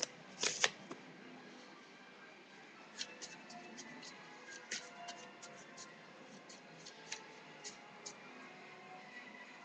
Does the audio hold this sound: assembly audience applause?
no